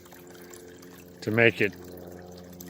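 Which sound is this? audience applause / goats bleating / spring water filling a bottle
spring water filling a bottle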